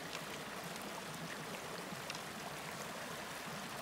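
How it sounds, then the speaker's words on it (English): A small creek along a mountain hiking trail flows with a soft, steady rushing and gurgling, faint and continuous with no voices. "Pretty small creek, it's not a big deal."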